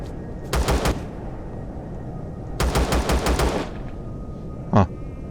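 Gunfire in Empyrion Galactic Survival comes in two quick automatic bursts, a short one and then a longer string of about eight evenly spaced shots, followed by a single sharp report, all fairly close against a steady hum.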